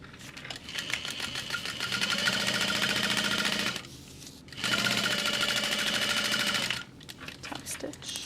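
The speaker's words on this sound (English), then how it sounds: "So top stitching that pocket" A sewing machine top-stitches a backpack pocket on a Riva Mini backpack in steady, close, fast-running bursts, with two short pauses between runs.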